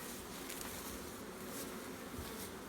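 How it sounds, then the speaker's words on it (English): A dense, steady drone of honey bees crowded around a nuc hive box being split, with a healthy population buzzing continuously at close range and no voices. "the bottom box still has a very healthy population of bees"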